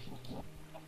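A chicken in the video game Minecraft gives faint, short clucks over a steady low background hum.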